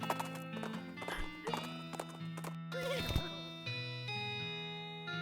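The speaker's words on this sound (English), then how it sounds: "But these are cart horses." Cart horses in the West of Loathing video game clop along steadily over background game music, with a whinny rising near the middle.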